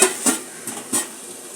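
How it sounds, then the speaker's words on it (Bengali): A lid set onto a pot of amudi fish chorchori with potatoes on a lowered flame gives several light metallic clinks and taps, close and alone, over a faint cooking hiss. "আঁচটাকে একটু কম করে একটু ঢাকা দেবো"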